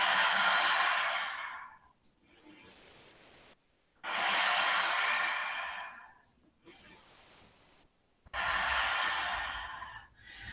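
Slow, deep breaths at close range held in a yoga warrior two pose, three long airy exhales or inhales separated by quieter breathing gaps, steady and unhurried with no talking.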